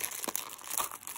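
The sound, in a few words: gift wrapping paper crinkling and tearing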